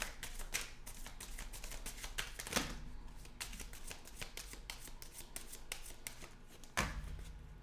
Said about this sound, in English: And the ninth shuffle.